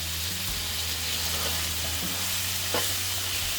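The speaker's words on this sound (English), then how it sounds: "just keep sauteing it until the pinkness is almost gone" Minced beef sautéing and browning in a pan for a mince beef curry, a steady broadband sizzle with occasional stirring scrapes, close and continuous with no talking.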